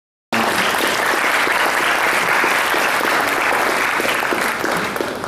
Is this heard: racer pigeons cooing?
no